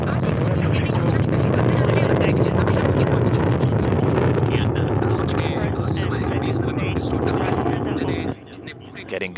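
A Soyuz rocket roars during launch to the space station with its four strap-on engines firing, a dense, loud, steady rumble that drops off near the end, with a commentator talking over it.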